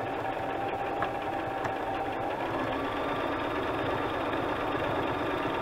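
A home sewing machine runs steadily as it lock-stitches layered fabric scraps, a continuous mid-pitched mechanical whir with faint rhythmic clatter and no voices.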